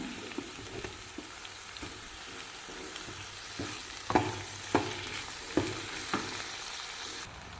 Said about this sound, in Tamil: கலருக்காக காஷ்மீர் சில்லி மூணு சேர்த்துக்கிறேங்க நல்லா வதங்கட்டுங்க